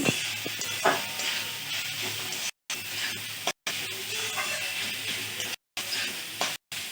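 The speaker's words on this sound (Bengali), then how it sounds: "হলুদ গুঁড়ো দিয়ে দিলাম, একটু নাড়াচাড়া করে নিচ্ছি" Turmeric powder stirred into a sizzling pan while cooking mochar ghonto (banana flower), a continuous hissing fry with scraping stir sounds, interrupted by a few brief silent gaps.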